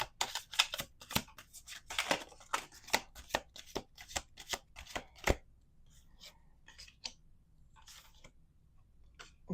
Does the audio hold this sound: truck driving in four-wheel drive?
no